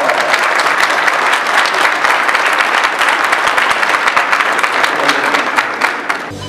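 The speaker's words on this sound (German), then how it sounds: "Beifall, bitteschön!" Wedding guests at a civil ceremony in the Stadtgalerie Passau applaud loudly and steadily for several seconds. The dense clapping fills the room and then stops abruptly.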